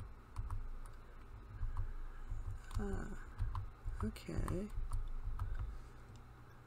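Arrow keys on a computer keyboard pressed while steering through the Arthur game Moonlight Mazes: quiet, irregular clicks of single taps and quick bursts, set against soft game tones, with a man's brief word.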